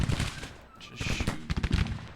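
Musket volleys crackle across a Civil War video game battlefield, several bursts of overlapping shots in ragged clusters, fairly distant and moderate in level, with a voice briefly talking over the firing.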